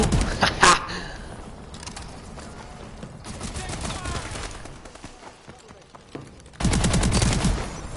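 A fully automatic gun fires in a shooter video game, with a short loud burst near the start and a dense, sustained stream of rapid shots at the end, separated by quieter game noise.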